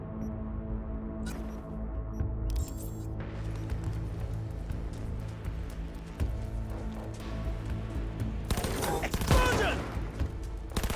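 Gunfire in the video game Cyberpunk comes as rapid automatic bursts and scattered shots over a steady game soundtrack, ending in a loud, dense volley near the close.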